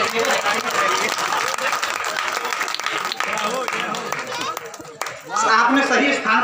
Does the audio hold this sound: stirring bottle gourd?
no